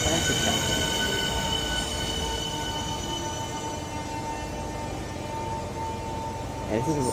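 Class 465 electric multiple unit 465047 pulls into Northfleet station on the service from Gravesend, its steady rolling rumble and tonal motor whine close and continuous, with faint wheel squeal and a brief clatter near the end.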